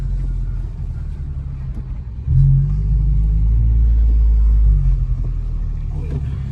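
A 2019 Honda Civic Type R fitted with a PRL intake, its engine rumbling low and then surging louder as it revs on, with the turbo blow-off valve sounding close over the steady drone.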